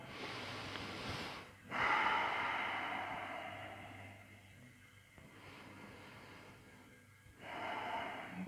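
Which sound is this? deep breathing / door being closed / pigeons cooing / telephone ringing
deep breathing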